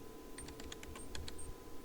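A computer keyboard clicks out a database name in a quick run of about a dozen light keystrokes, soft and close over a faint room hum.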